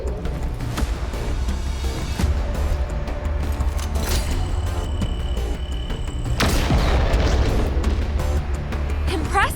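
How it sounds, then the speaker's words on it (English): A genie creature blows up after being shot with the E-gun in the sci-fi stealth-action game Evotinction. Loud booms and bursts punctuate a dense, steady game soundscape, with one big blast standing out near the end. "I see you can use the E-gun to trigger the genie's explosion"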